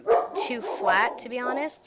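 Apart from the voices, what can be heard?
dog barking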